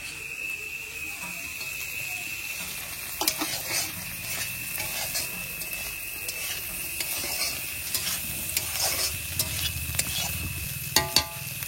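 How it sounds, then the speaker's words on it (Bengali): Dried fish sizzles and fries in a pan, a steady hiss broken by repeated scraping stirs and a few sharp clinks of the utensil near the end. "এই যে মাছটা ভাজা হয়ে গেছে"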